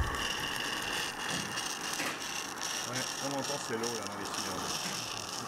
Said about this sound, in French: Lorsqu'elle effectue ses premiers tours de roue, il reste encore un peu d'eau dans les cylindres, d'où ce bruit caractéristique qui disparaîtra bientôt.